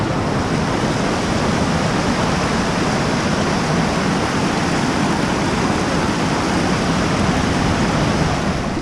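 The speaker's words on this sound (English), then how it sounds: "Check out these waterfalls." Steady, loud rush of waterfalls in Kings Canyon National Park fills the scene without pause, a broad roaring wash with no voices.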